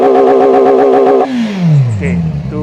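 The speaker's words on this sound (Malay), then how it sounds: "Okay, kita dengar bunyi valve on dulu," A motorcycle with its SRK450RR exhaust valve open holds a high, rapid rev, then lets the engine fall back, the note sliding down into a rough burble, loud and close-miked.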